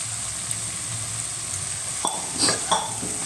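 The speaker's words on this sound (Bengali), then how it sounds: "ভালো করে নেড়ে চেড়ে নিচ্ছি" Mushrooms sizzle in a pan of cooked-down masala, a steady close frying hiss broken near the end by a few scrapes and clinks of a spoon stirring against the pan.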